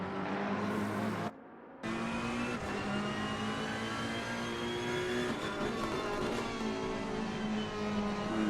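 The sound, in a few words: onboard GT3 race car engine at Monza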